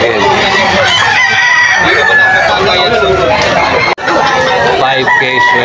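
Chickens cluck and a rooster crows repeatedly at a crowded poultry market in Bocaue, Bulacan, loud and close, with people chattering throughout.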